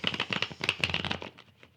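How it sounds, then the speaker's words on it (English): Tarot cards shuffled by hand in quick, close, rustling bursts that repeat in a steady rhythm for about a second and a half, then fade. "Let me give this another shuffle"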